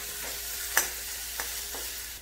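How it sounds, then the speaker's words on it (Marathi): Green masala paste sautéing with onions in a pan for masoor dal, a soft steady sizzle broken by a few light stirring scrapes. "हिरव वाटण टाकल्यानंतर व्यवस्थित असं परतून घ्यायचं कच्च्यापणा जाईपर्यंत।"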